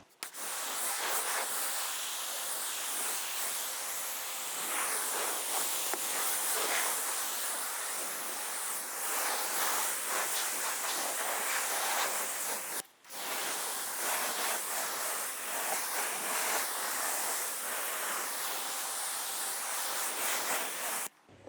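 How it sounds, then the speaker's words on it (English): Steady broadband hiss of a hose spray rinsing the front of a car after a shampoo wash, continuous and close for about twenty seconds with one brief break midway, no talking. "Let's finish rinsing the front here."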